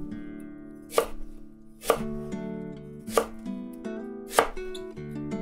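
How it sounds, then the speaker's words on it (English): A knife slicing a leek diagonally on a cutting board for sukiyaki, four distinct sharp chops spaced about a second apart over a steady hum of background music. "Slice the leek diagonally."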